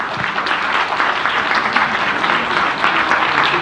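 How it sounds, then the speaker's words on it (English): Audience at a science convention applauding for the President, a dense, steady wash of clapping from many hands that fills the whole stretch at an even, loud level. "Once again, everyone, a big round of applause to our President."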